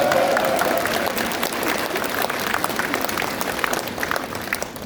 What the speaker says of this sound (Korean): 이럴 때는 박수를 쳐야 됩니다.